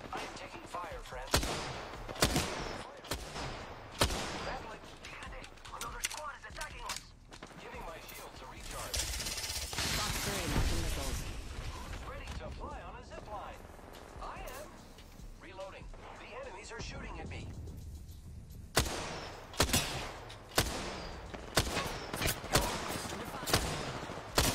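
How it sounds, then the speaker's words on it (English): Rapid bursts of automatic gunfire and single shots in an Apex Legends ranked match, loud and dense, with sustained volleys midway and sharp isolated shots toward the end, under frequent voice chatter. "I am taking fire, friend."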